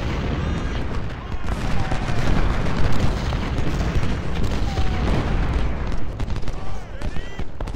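Cannon and artillery fire in a Civil War battle strategy game, a dense stream of booms and crackling volleys rolling on without pause, with someone speaking over the gunfire.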